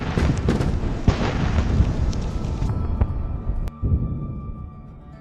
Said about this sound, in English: The vehicle begins to detonate and burn fiercely.